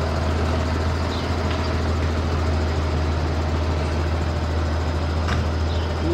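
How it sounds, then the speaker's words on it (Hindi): A tractor passing on a rural road, heard as a steady, loud low engine rumble that runs continuously, with no voices over it. "ट्रैक्टर जा रहा है"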